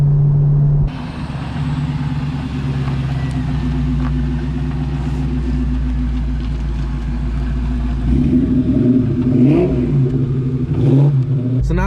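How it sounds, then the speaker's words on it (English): A Ford SVT Cobra with straight pipes and a Bassani off-road X-pipe rumbles at a loud, steady idle up close, with a sharp burble near the start and rougher throttle blips building toward the end. "just do a couple little revs just so we can hear it out"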